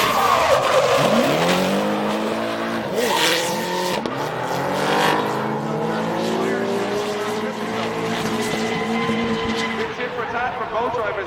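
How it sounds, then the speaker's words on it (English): Drift cars at the IDC 2015 competition accelerating hard and sliding through a run, engines wailing up through the gears with tire squeal and skidding, while a commentator talks over the action. "Flat first, second, third, into fourth as John McCarthy will try and lead initiation to try and throw off Wes as they come in"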